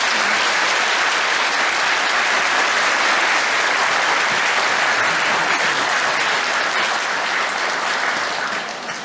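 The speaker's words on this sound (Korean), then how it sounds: "분들에게 축하 박수를 보내주시기 바랍니다." A Catholic congregation applauds at a confirmation ceremony in Gimpo parish, Incheon diocese. Dense, steady clapping fills the whole stretch alone, with no talk, and eases off slightly at the very end.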